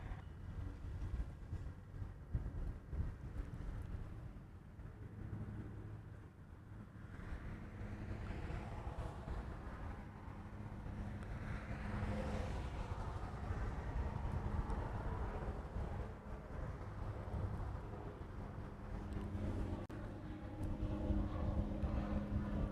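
A jet airliner departs Honolulu airport bound for Ontario: a broad, distant engine roar that builds steadily and stays loud and rumbling to the end, mixed with wind-like noise and no voices.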